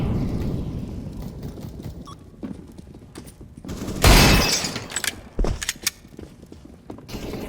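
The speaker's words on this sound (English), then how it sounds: "Deploying flashbang." A flashbang grenade detonates in Counter-Strike: Global Offensive: one sharp, loud burst midway through, followed by a second shorter crack over steady in-game background noise and footsteps.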